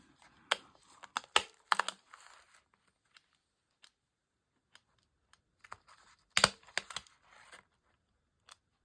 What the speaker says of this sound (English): I'm going to staple it.